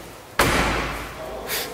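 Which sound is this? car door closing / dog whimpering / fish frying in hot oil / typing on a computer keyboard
car door closing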